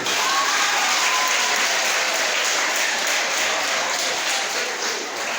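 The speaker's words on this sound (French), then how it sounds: "Applaudissez pour vous-même." Steady, loud applause from participants at a motivational success workshop, dense and even from start to finish with no voices over it.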